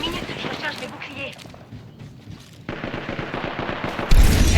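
Machine gun fire in a video game, rapid bursts of shots that stop and restart, ending in a loud close volley, with game effects around it.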